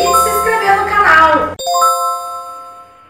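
A notification bell jingle rings out with bright sustained chime tones right after a short burst of speech, the ringing tones lingering and fading slowly.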